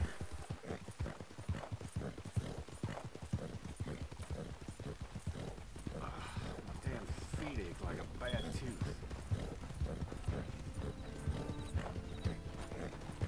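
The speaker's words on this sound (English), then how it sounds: "Horses." Horse hooves clip-clop steadily across the ground in Red Dead Redemption 2 Online, a fairly close galloping rhythm that runs throughout under game ambience and occasional talk.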